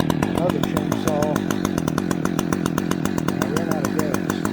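An Echo chainsaw, the CS-400 or CS-620PW, cuts through wood outdoors, running loud and steady with a fast pulsing engine note the whole time. Voices are faintly audible underneath.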